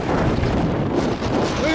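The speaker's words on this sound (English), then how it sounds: "It's so damn windy." Strong wind buffets the microphone on a hilltop, a loud, steady roar with gusty fluctuations throughout.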